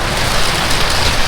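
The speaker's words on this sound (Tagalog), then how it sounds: "So sobrang lakas ng ulan yun." Heavy rain pours down in a dense, loud, steady roar of drops hitting surfaces, continuous and close with no voices over it.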